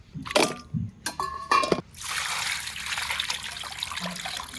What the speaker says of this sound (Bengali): মাংসগুলো আগে পরিষ্কার করে ধুয়ে নেবো